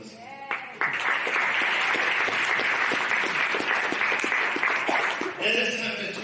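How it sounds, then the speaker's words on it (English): An indoor crowd at a girls' varsity basketball event applauds an undefeated 9-0 team, with a sustained, loud burst of dense clapping that starts sharply, holds steady for several seconds and tapers at the end amid some voices. "So that deserves a huge round of applause."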